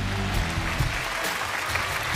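A studio audience on the Chinese relationship show Love Protection War applauds to welcome a couple on stage, a continuous, fairly loud clapping wash with a low musical undertone beneath it.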